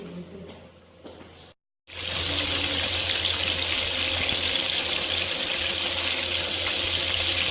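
Water runs steadily from a tap onto hands while pasta kebabs are being shaped, a loud continuous splashing rush that starts after a short pause and keeps going.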